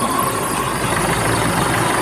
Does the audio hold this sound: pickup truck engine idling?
yes